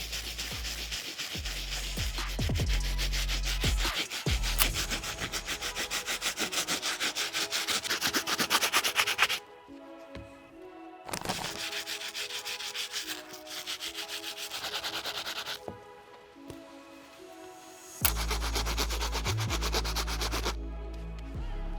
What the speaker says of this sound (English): I'm gonna be using a stiff bristle brush, our Rejuvenator 4-ounce bottle solution, some towels, or cleaning mat to get these fully cleaned up